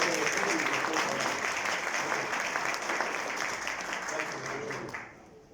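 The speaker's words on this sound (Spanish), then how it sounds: "Un aplauso al grupo" A crowd claps steadily in sustained applause that fills the room, tapering off near the end.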